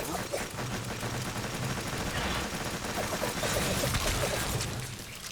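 Rapid weapon fire from Death Stars in the Warframe video game, a dense continuous crackle of shots lasting several seconds with steady loudness and a faint voice underneath.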